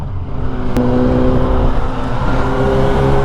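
A car accelerates hard close by, its engine note climbing steadily after a sharp click, loud and continuous amid road noise, with no voices over it.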